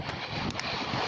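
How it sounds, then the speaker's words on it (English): Brief, steady wind roar buffeting the microphone on a seashore, a dull broadband rush with a couple of faint gust bumps. "It's a bit windy, as you can tell."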